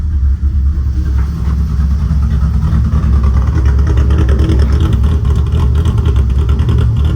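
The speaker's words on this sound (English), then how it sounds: "this is the first time I've ever seen this thing actually just idle normal, just warming up" BMW E46 drift car with an aggressive cam tune idling while warming up, a loud, close, steady engine rumble with a slightly choppy, lumpy pulse throughout.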